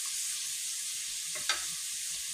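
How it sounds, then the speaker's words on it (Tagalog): Pork sautéing with onion and garlic in a pan, a soft continuous hiss of frying, steady and fairly quiet, with one brief louder spatter midway and no talk. "Mas maganda kasi na igisa natin siya sa sa sibuyas, bawang para siya, malasa yung laman ng pork."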